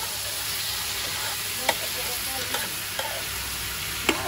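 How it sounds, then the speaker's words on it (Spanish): Chicken frying in a cauldron over a wood fire, a steady close sizzle with hissing and a few sharp clacks of a utensil against the pot. "Ahí viene la doña, tira el pollo."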